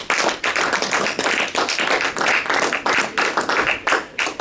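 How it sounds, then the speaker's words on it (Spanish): A church congregation claps together in praise to God, a loud, close, dense round of rhythmic applause that goes on without a break. "Ahora le damos una ofrenda de palmas al Señor."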